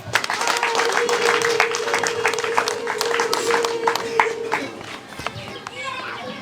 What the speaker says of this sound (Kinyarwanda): Akoze cyane, bakomera amashyi menshi.